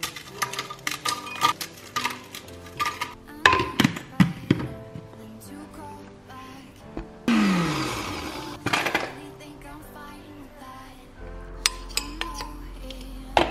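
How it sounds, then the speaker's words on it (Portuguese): A kitchen blender crushes biscuits for a Portuguese-style dessert, a brief burst of loud whirring and grinding between clinks of dishes and utensils, with background music playing. "Eu vou fazer tudo no liquidificador."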